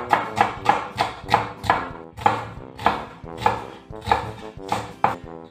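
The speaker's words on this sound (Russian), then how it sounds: "Лук нарезаю мелко," A knife finely chops an onion on a cutting board, about a dozen crisp, evenly spaced strikes, close and clear with no voices.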